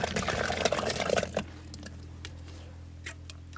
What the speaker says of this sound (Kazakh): Айранды мынау құйып жатым ғой